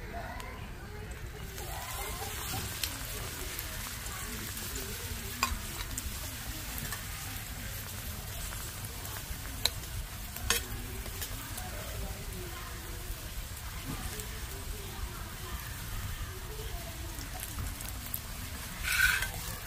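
Oil sizzling as a paratha fries in a pan, a soft steady hiss running throughout with occasional small clinks, while a person talks at intervals over it.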